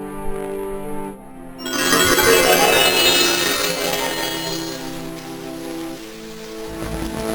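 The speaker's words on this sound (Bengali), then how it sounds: "এখন টানা বৃষ্টি হচ্ছে" Steady rain in an animated story sets in after a quiet, tonal opening and becomes a continuous broad hiss, with soft musical tones sustained underneath.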